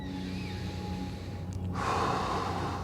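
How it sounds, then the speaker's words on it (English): Someone takes a deep breath during a massage ball warm-up. A low background hum gives way to a loud, close inhale near the end. "Take a big breath."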